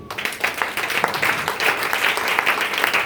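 A church congregation applauds and claps in praise to the Lord, a dense, continuous burst of clapping that swells slightly partway through.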